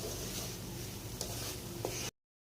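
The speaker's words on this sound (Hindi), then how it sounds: "सूजी शामिल करके हमने 5 मिनट के लिए स्लो फ्लेम के ऊपर इसको भून लिया है।" Semolina roasting gently on a low flame for banana barfi: a quiet, steady low sizzle with a couple of faint scraping clicks, then it cuts off abruptly.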